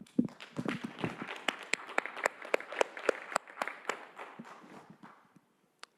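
A modest audience claps for panelists at the ICEF2023 conference event co-hosted by UNIDO; the individual claps are distinct and fairly close, thinning out and stopping near the end.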